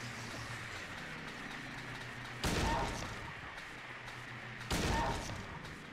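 Two loud gunshots from the survival horror game Silent Hill 2, spaced a couple of seconds apart, each a sharp broadband crack over a steady low ambient hum.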